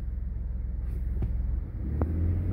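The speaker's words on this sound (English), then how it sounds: "It takes off kind of quick when you go to hit the gas normal." A 2021 Ford F150 PowerBoost hybrid pickup with auto hold engaged pulls away quickly, heard from inside as a low, steady rumble of cabin and road noise with a couple of faint clicks.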